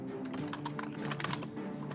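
Rapid, loud clicking of a computer keyboard being typed on close by, with quick irregular keystrokes over a steady room hum.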